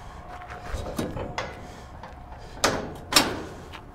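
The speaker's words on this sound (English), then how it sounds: "these candy cane style hooks lock the gate into position" Metal gate of a PJ utility trailer being latched with candy cane style hooks: low rattling knocks, then two sharp, close metallic clanks near the end.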